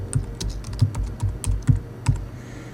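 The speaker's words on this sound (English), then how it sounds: "I'm just going to type in here Richard Jones." Steady typing on a computer keyboard, a quick run of close, crisp keystrokes with small pauses between bursts, heard alone without talk.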